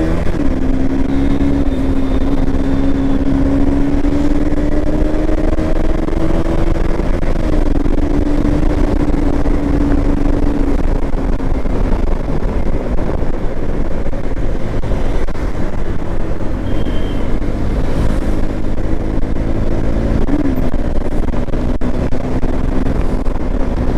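A TVS Ntorq Race XP scooter rides along on a foggy road, its engine droning loudly and continuously with small pitch rises and falls, mixed with steady wind rush and no voices.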